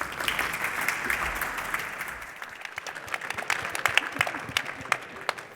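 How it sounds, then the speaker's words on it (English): Warm audience applause for panel speakers at an art discussion event, steady clapping that thins into scattered individual claps toward the end. "please do join me in giving them a very warm round of applause"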